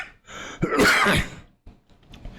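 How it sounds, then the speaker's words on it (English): A single harsh cough-like throat clearing, loud and close, followed by quieter breathy rasps. "This cough is persistent, and no one knows where it's coming from."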